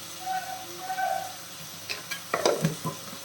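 A spoon scrapes and stirs turmeric and sambar powder into a rice mixture in a pan, with a soft sizzle underneath and a cluster of sharper scraping strokes toward the end, close and fairly quiet.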